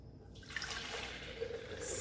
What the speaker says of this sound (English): So I'm gonna go ahead and pour my coffee here, and then I'm gonna add my hot water.